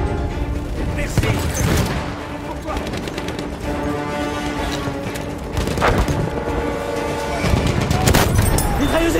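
Gunfire and explosions from a World War I battle game set at Soissons, with rapid bursts and booms under a dense, continuous mix of battle noise and some voices throughout.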